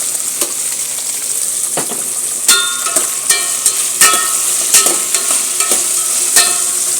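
Onion, garlic and okra fry in a pan, giving a constant loud sizzle while a utensil stirs and scrapes with occasional sharp clinks against the pan.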